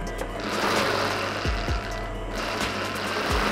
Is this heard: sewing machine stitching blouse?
yes